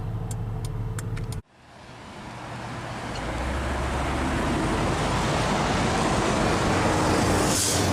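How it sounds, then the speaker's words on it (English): Road traffic passes at close range, with a broad steady roar of car and engine noise that swells after a brief drop and stays loud and continuous, with no voices present. "And I've got plenty of traffic."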